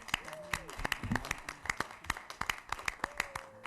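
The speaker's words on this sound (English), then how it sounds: "It's a three-way clap." Audience clapping in a rhythmic patterned sequence at a school district meeting, sharp evenly spaced claps repeating in a steady beat, with a voice talking faintly underneath.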